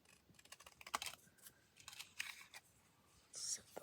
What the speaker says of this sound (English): let me trim off this little calendar square here